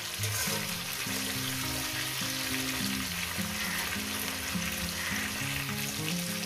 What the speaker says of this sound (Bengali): ফুলকপি আমি কিভাবে ভেজে নিচ্ছি দেখে নিচ্ছেন।